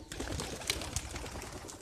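Pigeons at a rooftop pigeon setup, soft cooing and a few brief calls, faint against a quiet outdoor background.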